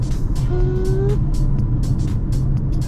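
A 2018 Toyota C-HR 1.8 Entry takes a curve at about 60 km/h, heard from inside the cabin as a steady, loud rumble of road and engine noise with a brief whining tone early on.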